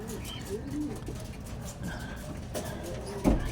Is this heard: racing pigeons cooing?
yes